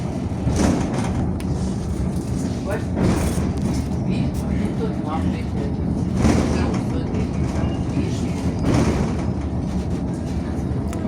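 Short paid funicular-style rail car ride heading slowly downhill, a steady rumble and rattle of wheels and cabin running continuously at close range with faint clacks throughout.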